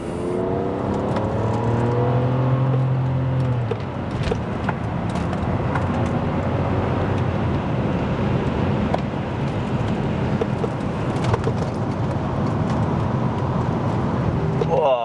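A car accelerates hard on the Nürburgring track, its engine note climbing through the gears at the start, then running in a continuous loud drone with wind and road noise.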